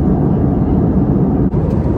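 Steady, loud, broadband roar fills an airplane cabin during flight, a constant engine and air rumble heard from a window seat with no talk.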